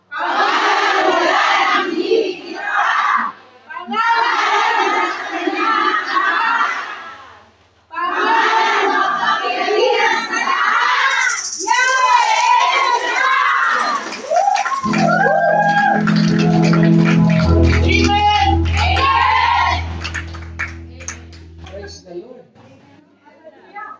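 A church congregation gathered for a weekday anniversary service bursts into loud shouting on command, several waves of massed voices and cheers, followed by a roaring chorus under heavy low rumble and music, close and very loud.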